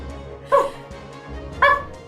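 A dog gives two sharp, loud barks about a second apart, with a faint whimpery yip between them, close by and with no talking.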